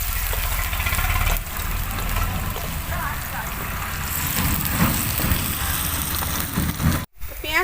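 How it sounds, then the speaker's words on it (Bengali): Chopped onions fry in a pan for a pumpkin fritter curry, with a continuous hissing sizzle throughout and a brief break near the end. "পেঁয়াজটা আমি খানিকক্ষণ একটু ভেজে নেব।"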